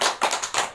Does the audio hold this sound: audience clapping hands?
yes